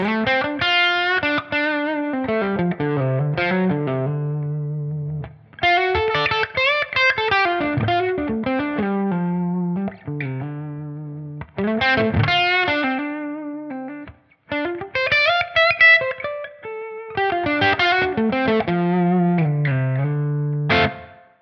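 Electric guitar through a Dumble-style overdriven amp model on a TONEX, melodic phrases with sustained gritty notes and bends, played in several bursts separated by brief pauses.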